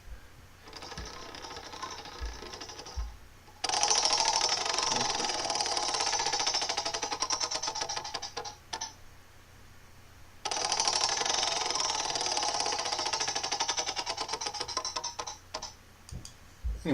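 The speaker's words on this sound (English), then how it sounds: "This is a prize wheel sound" A prize wheel spins with rapid, steady clicking that fills two long runs, separated by a brief quieter gap, loud and continuous with no speech.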